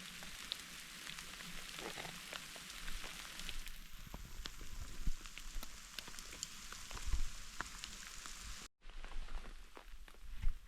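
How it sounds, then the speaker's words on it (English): Heavy rain pours down at an outdoor wild camp during a multi-day hike, a steady dense hiss of drops hitting surfaces with scattered louder patters throughout. "it started raining harder"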